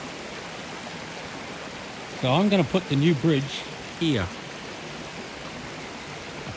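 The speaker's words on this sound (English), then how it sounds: "a very pretty stretch of the river with about 7 or 8 cascades, cataracts running down" A river stretch with several small cascades and cataracts runs steadily as a continuous broadband rush throughout, with someone speaking over it near the middle.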